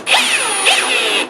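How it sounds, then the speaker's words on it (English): A power drill bores into a maple butcher block near a glued seam, whining loudly and steadily with a slight pitch rise and fall as the bit cuts, close up and alone. "I'm not drilling on the seam because I'd put stress on it. I'm drilling next to it."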